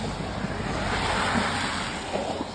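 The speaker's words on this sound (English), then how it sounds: "the water is running very, very fast" Fast, shallow river water at Matlock Bath rushes in a dense, continuous roar, close and steady, with wind buffeting the microphone.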